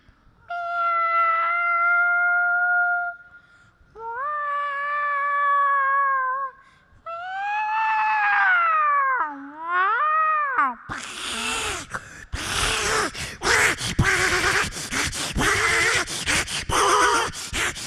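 A performer at a Kerala school arts festival mimicry contest imitates two cats fighting: long, rising and falling yowls and meows build into a harsh, noisy, rapid screeching scuffle, all done by voice.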